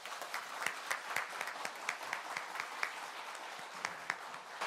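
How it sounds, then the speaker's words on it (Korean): Korean church congregation clapping in blessing for the pastor at a men's mission dedication service, a faint, steady patter of many hands with distinct individual claps standing out. "우리 한 번 더 목사님한테 우리 축복의 박수 하도록 하겠습니다."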